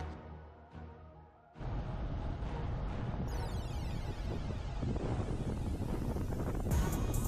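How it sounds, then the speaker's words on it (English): Strong northeasterly headwind buffeting a rider's microphone during a bike race, a loud steady rushing roar that rises suddenly after a quieter opening and stays constant. "we're smacked with that northeastern headwind"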